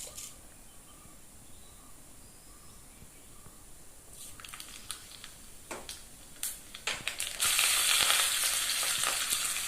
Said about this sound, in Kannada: ತುಪ್ಪ ಬಿಸಿ ಆದಮೇಲೆ ನಾನು ಅರ್ಧ ಟೇಬಲ್ ಸ್ಪೂನಷ್ಟು ಸಾಸಿವೆ ಹಾಗೆ ಕರಿಬೇವಿನ ಸೊಪ್ಪನ್ನು ಹಾಕ್ಕೊಳ್ತೀನಿ